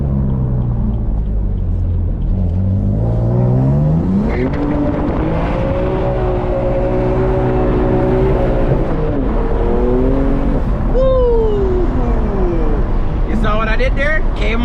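A BMW M3 with a manual gearbox revs hard while drifting and doing donuts, the loud engine note rising and falling through repeated throttle blips and gear changes, with tire squeal near the end.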